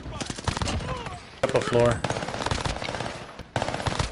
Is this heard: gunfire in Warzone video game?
yes